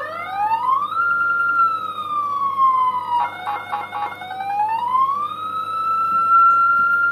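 A CJB 200-watt siren module sounds a loud police siren, its tone sweeping up and down with a brief rapid warble burst in the middle, close and continuous.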